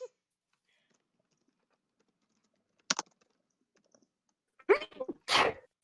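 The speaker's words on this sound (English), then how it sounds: "Was that second thing a sneeze?" Two sneezes after a long quiet stretch: a short one first, then a louder, sharper sneeze a couple of seconds later with a brief voice sound between.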